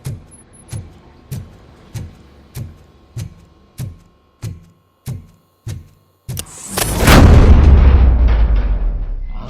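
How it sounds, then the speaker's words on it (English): A series of about ten evenly spaced sharp gunshots in the video game RoboCop: Rogue City rings out, followed by a loud booming blast that swells and rumbles before fading. "Am I hearing gunshots?"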